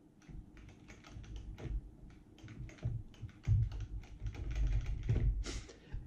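Arcade controller buttons clicking in rapid, irregular bursts of sharp, close taps, with brief pauses between flurries of presses.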